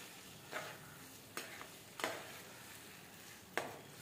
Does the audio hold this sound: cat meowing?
no